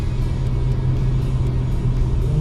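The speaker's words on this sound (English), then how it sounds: "let's see what the D-Max is like through this bend." An Isuzu D-Max pickup cornering through a bend, with a steady, loud low engine and road rumble from inside the cab, continuous and even throughout with no talk.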